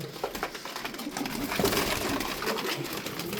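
Young tumbler pigeons in a flock give low, throaty coos that swell midway, mixed with wing flutters and scratchy movement nearby, with no talking.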